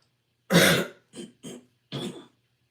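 A harsh throat-clearing cough followed by three shorter coughs, close and fairly loud, with silence in between.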